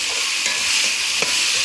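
Chopped onions and tomatoes sauté in a hot pan, giving a loud, continuous close sizzle with soft stirring scrapes and no voices.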